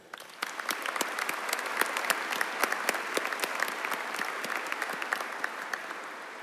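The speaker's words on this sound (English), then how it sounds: "Let's give them a round of applause." A high school commencement audience applauds its graduating seniors, a dense, steady wash of many hands clapping with sharp individual claps standing out throughout.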